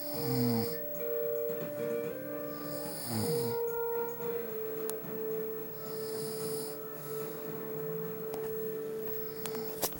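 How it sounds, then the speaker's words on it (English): A person snores loudly and steadily through the whole stretch, with deep rasping breaths and a snort near the start, recorded close by with no talking. "Will you stop snoring?"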